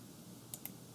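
A computer mouse gives two quick, faint clicks in close succession during schematic design work, heard over a quiet room hum.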